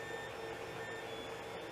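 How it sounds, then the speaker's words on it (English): A 3D printer hums steadily with faint high whine and tonal motor lines, running continuously nearby with no voices. "you can hear the printer in the background."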